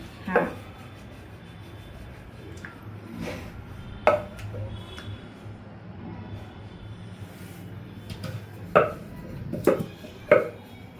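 Phulora dough rolled out with a rolling pin on a board in a home kitchen, with soft rolling friction and intermittent sharp wooden knocks and clacks, under women chatting nearby.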